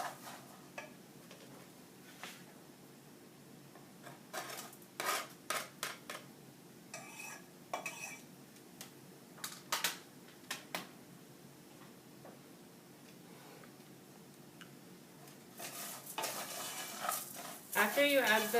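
Onion stirred and frying in a pan for rice, with scattered scraping strokes and soft sizzling that build toward a denser, louder stretch near the end.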